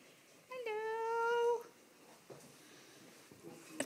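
A nervous cat in a kitchen gives one drawn-out, clear meow lasting about a second, close and moderately loud, followed by faint rustling and a quiet room.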